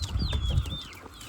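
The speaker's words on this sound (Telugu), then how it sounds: "3 పుంజులు ఒక పెట్ట." Three roosters and a hen in a loft cluck and chirp at close range, with a few short, high calls over a soft, low clucking.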